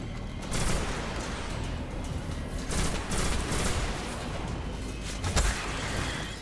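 Pulse rifle fire in the video game Destiny, played as a Titan at the Moon base: continuous dense bursts of gunfire with a few sharper cracks and booms near the end, loud and steady throughout with no talk.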